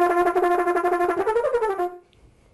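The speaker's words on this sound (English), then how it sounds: "But a double tongue will sound like this." A horn plays a rapid double-tongued run of crisp, evenly spaced repeated notes, stepping in pitch near the end before cutting off to silence, solo and close.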